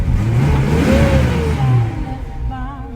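Nissan car with a 2.8-liter L28 non-turbo engine revving up and settling, a loud, close, steady mid-range roar with rising and falling pitch sweeps.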